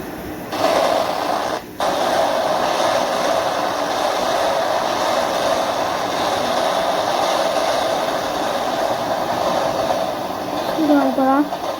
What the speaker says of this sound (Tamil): திடீர்னு ட்ரெயின் வரும், இங்கே ஒழிஞ்சிக்கணும்